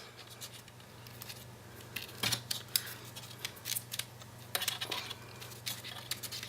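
Scissors make a short cut into cardstock for a handmade gift box, with a few crisp snips and light clicks close up against a quiet room hum.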